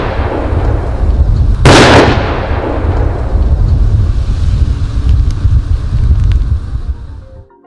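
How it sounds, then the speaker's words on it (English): Plastic explosive detonating to dispose of unexploded ordnance in the ground, one loud sharp blast followed by a long, heavy, rumbling roll that slowly fades, with strong wind buffeting throughout and no voices. "placed plastic explosive is used to blow any fragmentation into the earth and not into the air"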